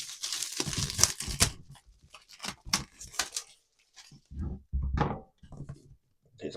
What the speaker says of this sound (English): Let's rip off that cellophane